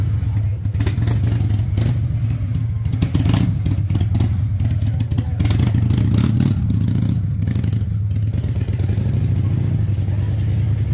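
A Harley-Davidson Sportster converted to a bobber idles steadily up close, its deep engine rumble continuous and loud throughout with some mechanical clatter on top.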